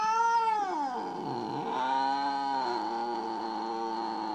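A jealous cat meows and caterwauls in one long, drawn-out wail that bends down in pitch and then rises again into a sustained yowl, close and clear with no talking.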